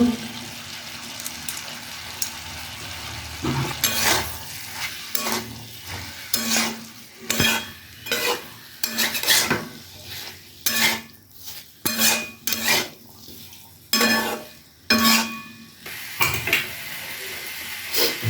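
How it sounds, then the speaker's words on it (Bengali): A spoon scrapes and clatters against a cooking pot as turmeric powder is stirred into a chicken stew with peas, giving a string of irregular short clinks and wet scrapes that quicken toward the end, close and without talk. "হলুদ গুঁড়ো ভালো করে মেশানো হয়ে গেছে"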